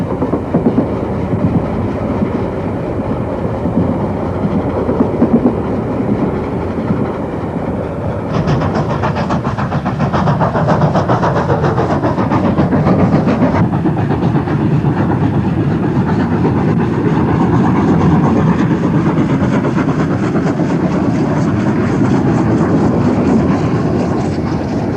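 The Western Endeavour passenger train of 1970 running on an Australian standard gauge line, a loud continuous rumble with rhythmic clickety-clack of wheels over rail joints, the sound brightening and intensifying partway through.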